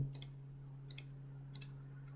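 Mouse clicks while modelling a rubber band car wheel in OnShape CAD: four sharp double clicks spaced evenly apart, close and faint over a steady low electrical hum, with no talking.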